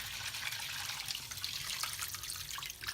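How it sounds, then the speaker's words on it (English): Natural spring water pours steadily into a cooking pot over bones, a continuous close splashing rush with no talk. "And then we're going to pour water"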